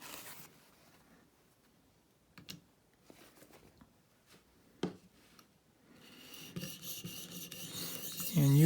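A Cruwear steel knife is worked on a fine 1200-grit stone in a ViperSharp sharpener, making scattered dry rasping strokes that build into steadier, louder scraping near the end, close and with no talk.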